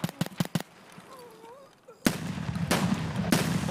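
Gunfire in the video game Escape from Tarkov: a quick cluster of sharp shots at the start, then a quieter gap and a louder, sustained burst of crackling shots and noise, with a voice faintly in the mix.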